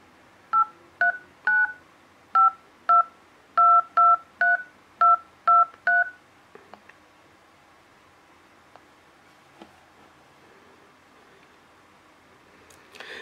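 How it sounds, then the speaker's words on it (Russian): A telephone number is dialed in a run of about a dozen clear, evenly spaced DTMF beeps, loud and close, followed by quiet line noise with faint scattered clicks. "Звоним."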